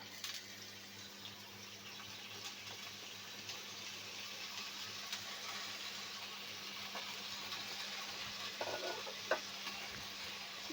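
Chopped potatoes sizzle in hot oil in a pan, with a soft steady frying hiss and a few faint scrapes and clicks as they are stirred, close by and without any talking.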